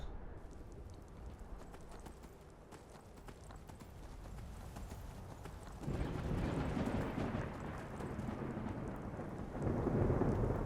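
Rain and thunder in the video game Skyrim: faint, steady rainfall with low, rolling thunder that swells midway and again near the end, mixed with rhythmic clopping.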